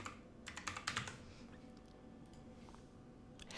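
Keys clatter on a computer keyboard as a short search is typed, quiet and close, with a quick run of keystrokes early on and then a few scattered taps.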